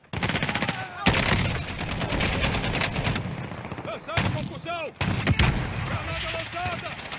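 Gunfire and a grenade blast in the battle royale shooter Warzone, with sustained loud rapid shooting broken by short gaps and a heavy burst near the middle, under continuous battle noise.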